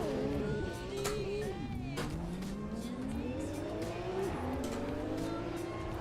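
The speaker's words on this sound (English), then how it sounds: "So we're back at Le Mans, and this time in the 2016 Porsche 911 GT3 RS" A 2016 Porsche 911 GT3 RS at Le Mans: a loud, continuous engine note climbing in pitch through successive gear pulls, close and uninterrupted.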